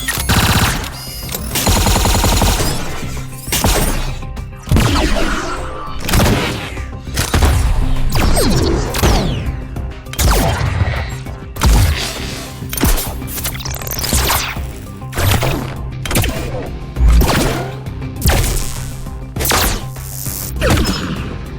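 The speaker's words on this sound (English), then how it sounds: "the website brings you this sound pack called Lethal Energies" A trailer for the Lethal Energies energy-weapon sound effects pack: a loud, relentless run of sharp blasts, zaps and crashing impacts, firing in rapid bursts with brief gaps between volleys.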